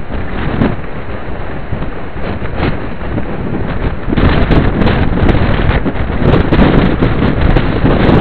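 Storm wind gusting hard against the microphone during a windstorm, a loud continuous roar that swells stronger partway through and stays heavy to the end, with no talking.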